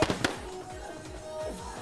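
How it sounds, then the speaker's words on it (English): Sharp explosive bangs from a music video shoot burst at the start, then a crackling, rumbling tail lingers in the background. "they hear this massive explosion"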